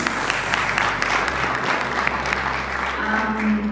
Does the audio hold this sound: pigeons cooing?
no